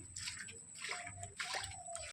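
Water sloshing and splashing on a flooded road at dusk, a steady wet churning with a few louder surges, fairly close.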